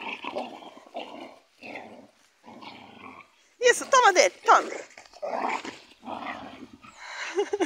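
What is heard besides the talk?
small dog growling while playing with ball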